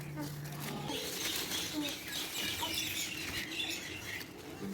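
Birds arrive at a guava tree in a grandmother's garden, with fluttering wingbeats and scattered chirps over a steady outdoor wash of rustling noise.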